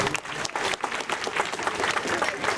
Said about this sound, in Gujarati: એમના માટે તાળીઓ પાડો